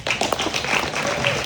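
Audience applause at a Boys to Men community event, a steady wash of clapping hands filling the room for the whole stretch, with a few voices faintly mixed in beneath.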